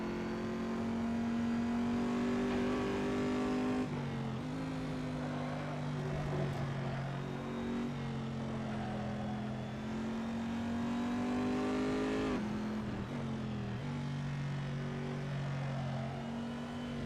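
Race car engine in Assetto Corsa revving under throttle through a ranked race, a sustained loud high-pitched drone that rises and drops with several gear changes and throttle lifts, continuous throughout.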